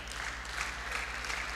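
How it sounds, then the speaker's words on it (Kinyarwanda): An audience claps together in a hall during a prayer gathering, a soft, steady patter of many hands heard at a distance over a low electrical hum. "Mwakomera amashyi rwose."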